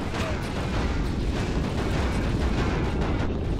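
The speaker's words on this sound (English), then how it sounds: "even though I missed, that explosion was still strong enough to take it out." A continuous heavy rumbling blast from an explosion in the video game Ratchet & Clank, loud and sustained with dense low-end roar throughout and no speech over it.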